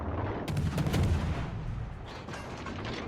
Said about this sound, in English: He's on the surface, so I'm going to go ahead and put shots on him.